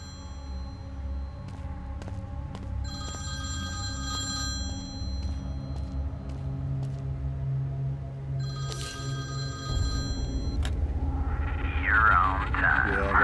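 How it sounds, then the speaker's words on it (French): An old-style bell telephone rings in the horror game This is the Zodiac Speaking, two loud metallic bursts several seconds apart over a low droning ambience, with an eerie rising tone at the end. "Rendez au téléphone."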